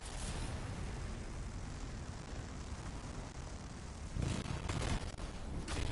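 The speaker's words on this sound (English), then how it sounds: "It'll be a contained explosion." Video game explosion in Anthem, a loud sustained rumbling blast that fills the whole clip, swelling into a stronger burst near the end.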